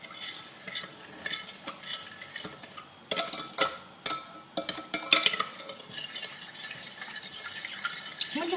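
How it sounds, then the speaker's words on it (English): Spoon stirring a sugar, salt, vanilla and yeast mixture in a bowl, continuous scraping and swishing of liquid with occasional clinks against the bowl, close and moderately loud. "Give it a stir."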